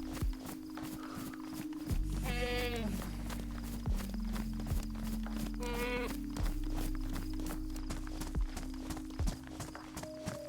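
Goats bleating in the survival video game DayZ: two short, wavering bleats a few seconds apart, heard over steady footsteps and low in-game ambience.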